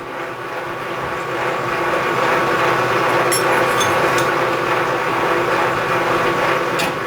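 Machine tool taking a face cut at about 265 RPM with roughly 8 thousandths feed, a steady loud broadband grinding hum that holds throughout, with a few brief sharp ticks partway through.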